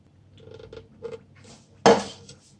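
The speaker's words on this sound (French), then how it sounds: "on mélange bien pour bien dissoudre la maïzena" Utensil stirring cornstarch into milk for eggless pastry cream, with soft, faint scrapes and taps followed by one sharp, louder clink of metal against the bowl.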